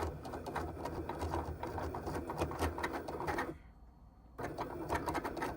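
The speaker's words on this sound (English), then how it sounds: "once the Cricut machine have scanned the whole image or the whole sticker sheet" Cricut cutting machine scanning a printed sticker sheet for print-then-cut, a steady close whirring and buzzing of the motor and carriage, briefly cutting out for about a second before the mechanical drone resumes.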